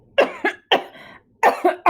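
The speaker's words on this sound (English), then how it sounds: "Maury coughs violently." A man coughs violently, five harsh close hacks in two quick clusters with a raspy breath between them.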